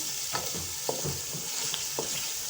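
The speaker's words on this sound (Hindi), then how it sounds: "बीफ को हम अच्छी तरह से भून लें।" Beef frying for beef karahi, a steady loud sizzle with several scraping stirs of the spoon through the meat in the pan, heard close and alone.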